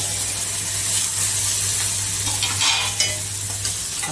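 Curd stirred briskly into a spiced papad curry in a pan, giving a loud, continuous frying hiss with scraping stir strokes running throughout.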